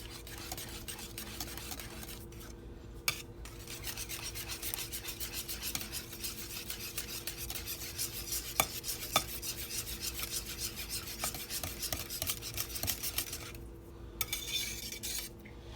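Condensed milk being mixed smooth with evaporated milk for a from-scratch custard makes a steady scraping, rubbing stir against a bowl, close and continuous with a few brief pauses and small clinks, and no voices.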